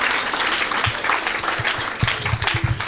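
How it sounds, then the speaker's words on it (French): A church congregation claps and applauds during an evangelistic sermon, steady rhythmic clapping from a crowd filling the room, moderately loud and continuous with no speech. "Acclamons Jésus."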